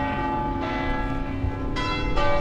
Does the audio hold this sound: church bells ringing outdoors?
yes